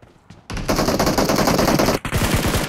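Rapid machine gun fire in the PUBG Mobile video game, a loud sustained burst of dense automatic shots with a brief gap before firing resumes, alone without voices.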